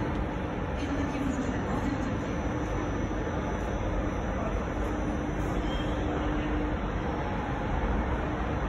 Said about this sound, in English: This train, guys, going to Paris. It's TGV.